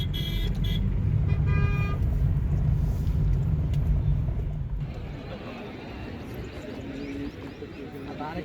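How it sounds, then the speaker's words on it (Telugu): Vehicles stuck in a traffic jam at the Maha Kumbh Mela in Prayagraj, with engine rumble and short horn toots up close, fading into quieter road noise while people talk. "మొత్తం జామ్ ఉంది నైట్ నుంచి, అసలు కదలడం లేదు వెహికల్స్."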